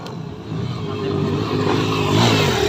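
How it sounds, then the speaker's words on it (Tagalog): Trail motorcycle in an expert-category trailcross race, its engine revving hard and climbing in pitch as it powers uphill, loud and close with no talk over it. "Nag-uphill nga naghangad ang motor."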